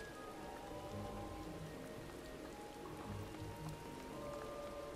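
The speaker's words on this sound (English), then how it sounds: "And the rain. I love the rain. The rain makes me happy." Steady rain falls in Final Fantasy XIV, a dense continuous patter that keeps an even level throughout, with faint music tones beneath and no talking.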